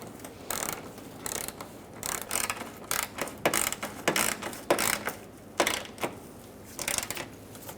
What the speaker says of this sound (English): get them started by hand and then snug them up